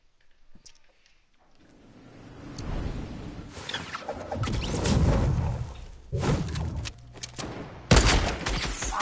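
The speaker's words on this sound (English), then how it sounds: "Where are some gunshots coming from?" Bursts of rapid gunfire crackle and rattle in loud clustered volleys with crashing impacts, building and recurring over several seconds with no talking.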